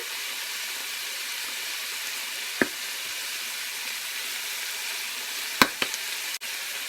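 Garlic and pepper sizzle steadily in a frying pan, a constant close hiss with a couple of brief sharp clinks from utensils, with no talking.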